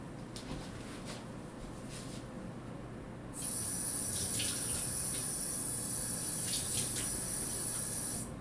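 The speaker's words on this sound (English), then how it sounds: "I'm gonna add a little bit of water to this." Tap water runs into a mix of pizza sauce ingredients, starting as a soft background hiss, then turning into a sudden louder, steady splashing stream that continues to the end.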